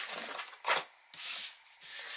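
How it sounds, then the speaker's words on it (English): Adhesive score tape is peeled and smoothed onto paper in three soft hissing rubs, each lasting a fraction of a second to half a second. The sounds are close and quiet, with no talking. "Now we're going to add score tape."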